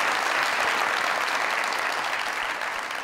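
Studio audience applause on a comedy talk show, a continuous dense wash of clapping at moderate level, steady throughout and fading slightly at the end.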